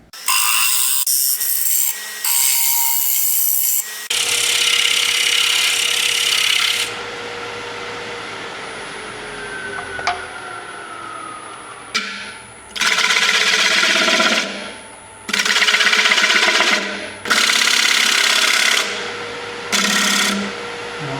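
A pencil-and-epoxy clock blank turns on a wood lathe while a cutting tool scrapes it in loud, raspy bursts of several seconds each, broken by quieter pauses where the spinning lathe hums alone.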